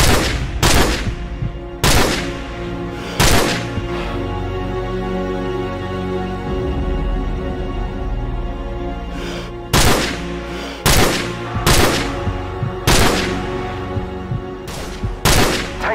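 Gunfire in Call of Duty 4: Modern Warfare (2007), loud sharp shots and short bursts repeating through the stretch with a steady rumbling battle bed underneath, no talk.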